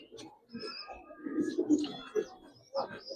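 Domestic pigeons, a Giribaz coloring jabra pankhi breed, coo softly in a few low murmuring bursts, close by, with faint chirps and no clear talk.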